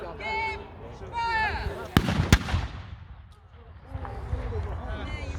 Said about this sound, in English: The cannon's been loaded.